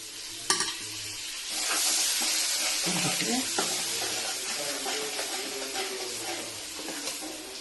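Garlic hits a hot frying pan with potatoes and salt, setting off a steady, busy sizzle and hiss while a utensil stirs and scrapes through the mixture.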